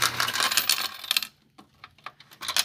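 Slot machine in a casino-style setting paying out a win of ten coins: a dense metallic clatter of coins dropping fills the first second, then scattered lighter clinks and a final burst of jangling, up close.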